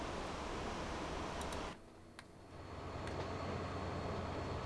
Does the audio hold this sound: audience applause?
no